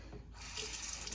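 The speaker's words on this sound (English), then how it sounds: "Rinse that off." Tap water splashing steadily into a sink while rinsing during a shave, close and continuous through the short moment.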